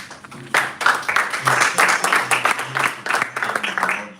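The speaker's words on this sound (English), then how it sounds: "please can we give her a round of applause?" Audience applause at a Toastmasters club meeting in a hotel in Lagos, a steady wash of clapping from a room of people, moderately loud with some speech mixed in.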